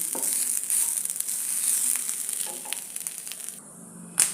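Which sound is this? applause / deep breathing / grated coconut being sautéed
grated coconut being sautéed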